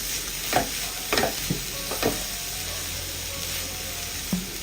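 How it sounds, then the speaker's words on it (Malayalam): Mashed potato and leftover chapati mixture being stirred in a pan, a soft continuous frying hiss with a handful of distinct scraping strokes of a spatula, close up and moderately loud. "നന്നായിട്ടൊന്ന് ഇളക്കി കൊടുക്കാം."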